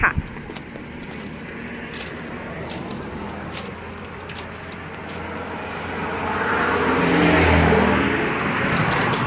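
A used 50-horsepower farm tractor runs on a test drive in Sisaket, its engine giving a steady, close rumbling drone that swells louder for a stretch before settling.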